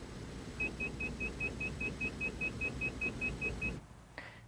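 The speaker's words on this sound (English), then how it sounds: "what you were hearing there was a stall warning system" An aircraft stall warning system sounds a steady series of about sixteen short, evenly spaced high beeps over a low engine rumble, then stops abruptly.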